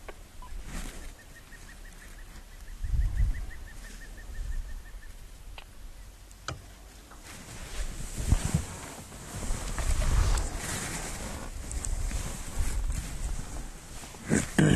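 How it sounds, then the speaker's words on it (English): A dark chanting goshawk calls from close by on an African safari drive, its repeated piping notes running in a steady series early on, set against wind, vehicle rumble and outdoor background noise. "there's obviously a dark-chanting goshawk close by"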